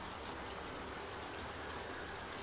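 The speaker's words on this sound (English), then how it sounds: "It is raining something fierce." Heavy rain in The Walking Dead video game, a dense, faint, continuous hiss of downpour with no talking.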